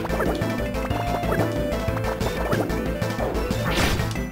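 A punch landing on an enemy in a Mario & Luigi battle, a dull thwacking smack heard over loud, dense game music that continues throughout.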